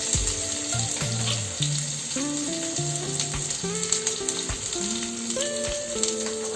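Chopped ginger frying in hot mustard oil with crushed cardamom for masala rajma, a continuous close crackling sizzle under a faint tonal background.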